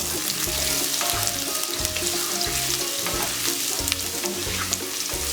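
Ginger and garlic sautéing in a pan, a loud close sizzle with rhythmic scraping and stirring strokes repeating throughout, no talk.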